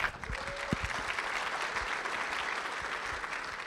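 Keynote audience at a design summit clapping for its speakers, a sustained, even spread of applause from a large room, moderately loud, with a brief low thump near the start.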